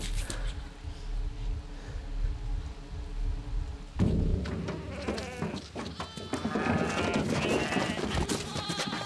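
Sheep bleat repeatedly, wavering and nasal, close by, with a buzzing insect-like drone and some rustling in the background.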